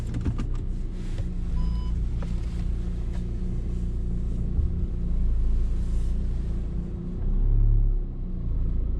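Car engine rumbling steadily at low pitch while backing out of a parking spot in a Vienna parking garage, loud and continuous with a swell near the end, no talk.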